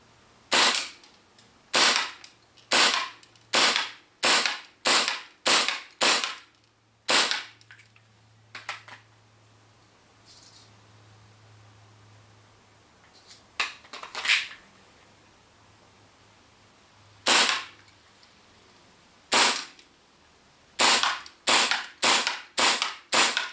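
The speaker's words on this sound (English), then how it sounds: "This is how it's going to shoot at 15 meters" A Tokyo Marui Hi-Capa D.O.R. airsoft pistol fires out of the box at targets 15 meters away: about twenty sharp, crisp cracks in quick strings, separated by short pauses and a couple of quieter mechanical clicks.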